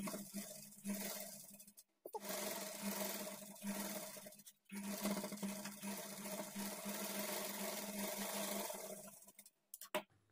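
A sewing machine runs in steady bursts while stitching the edge of a lining blouse waistband, its motor hum continuous with brief stops between runs.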